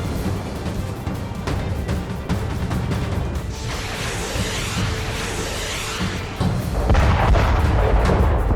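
Heavy booms and artillery fire in the Middle East conflict between Israel and Palestine, repeated thuds and crackling blasts over several seconds, with a louder surge of rumbling impacts near the end.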